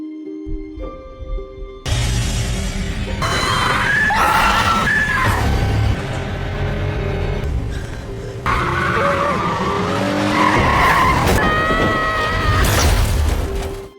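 A car skids in a film scene, with loud, sustained tire screeching and engine noise mixed with screams and yelling, plus dramatic background sound throughout.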